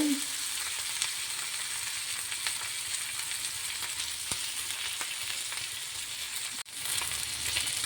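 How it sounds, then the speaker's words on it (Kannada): Mangalore-style mackerel (bangude) fish frying in oil in a pan, a steady close hiss and crackle of sizzling that runs through the whole stretch with one brief dip near the end. "ಇದೊಂದು ಎರಡು ನಿಮಿಷಕ್ಕೆ ಫ್ರೈ ಆದರೆ ನಮ್ಮ ಮೀನು ಫ್ರೈ ಕತೆ ಮುಗಿಯಿತು"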